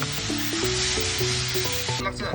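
Ginger-garlic paste and ground spices such as cumin frying in hot oil for a fish curry, a steady loud sizzle with tonal humming over it, then a short break near the end.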